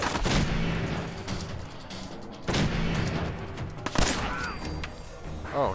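Dense gunfire from the video game Fallout 4 fills the scene, with repeated loud shots and heavy bursts close up, a sharp crack standing out near the end.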